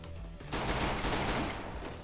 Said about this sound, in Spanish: Le llovieron balazos de ese pendejo